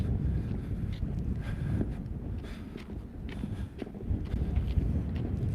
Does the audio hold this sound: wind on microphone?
yes